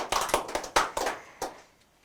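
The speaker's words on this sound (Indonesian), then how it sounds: "boleh kita berikan tepuk tangan yang meriah untuk kita semua" A few people clap briefly and unevenly during a virtual award ceremony, about eight or nine separate sharp claps across two seconds, close and fairly quiet, with no talking.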